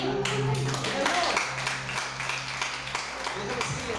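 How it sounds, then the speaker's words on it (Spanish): A church congregation applauds during a sermon at an anniversary service, with steady, dense clapping running the full length while a voice carries over it. "Dale un aplauso a Dios."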